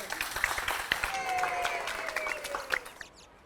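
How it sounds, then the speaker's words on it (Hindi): A small crowd claps together on a children's TV show set before a kabaddi match, lively uneven clapping for about three seconds with a faint tone running underneath, then fading out. "ताली बजाइए।"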